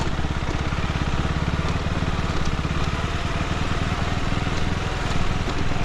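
KTM 390 Enduro R single-cylinder motorcycle riding off-road in first gear, a steady close engine drone with a buzzy, pulsing low-end throb and light crackle running throughout without a break.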